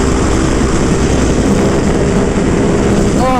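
A Ducati Panigale V2 fitted with a Vandemon full exhaust and dB killers, its engine holding a loud, steady, throaty drone close by for the whole stretch, with a faint rising whine right at the end.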